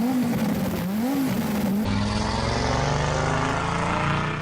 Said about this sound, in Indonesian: Pernah denger suara Audi Quattro zaman Grup B Rally?